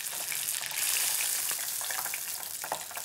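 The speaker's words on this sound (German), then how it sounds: "das Hähnchen ungefähr 3 Minuten brutzeln lassen" Chicken deep-frying in hot oil in a kitchen, a steady bright crackle and sizzle that continues throughout with small pops.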